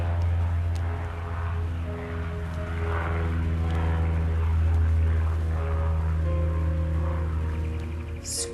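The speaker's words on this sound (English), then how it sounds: "put up with a few seconds of airplane noise." Propeller airplane flying overhead, a steady low engine drone with a constant hum that swells slightly midway, heard alone outdoors, with a faint bird chirp near the end.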